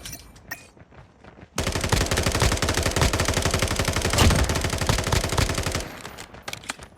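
A long continuous burst of submachine gun fire in Call of Duty Mobile, rapid even shots sustained for about four seconds, loud and close, framed by a few single shots before and after.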